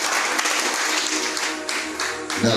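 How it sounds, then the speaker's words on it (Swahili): A church congregation claps and applauds together, a dense, sustained wash of many hands close by, holding steady throughout. "Pigia Mungu makofi baba."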